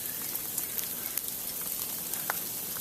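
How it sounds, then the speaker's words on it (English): Sleet bounces and patters on surfaces and a gazebo during a Carolina snowstorm, a dense steady hiss of tiny ticks and scattered sharper taps close by, with no voices. "Yep, sleet's bouncing."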